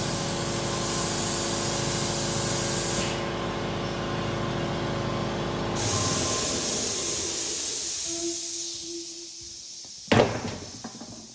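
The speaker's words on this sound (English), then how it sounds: "let me shut that compressor off real fast" A loud, steady mechanical hiss and hum of an air compressor runs, then winds down and cuts off, followed by a brief clunk.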